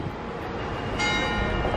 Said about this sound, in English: It's a 12 o'clock bell.